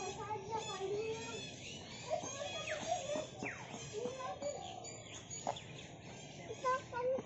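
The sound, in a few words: birds calling at TMII bird park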